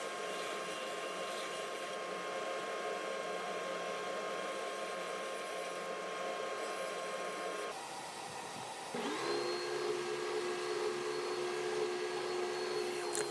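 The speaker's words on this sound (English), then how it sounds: "Over to the oscillating edge belt sander, we are gonna really just try to get the marks off from the other machine" An oscillating edge belt sander smooths a wooden spatula, giving a steady loud whirring motor hum that dips briefly partway through and then resumes slightly higher as the piece is worked against the belt.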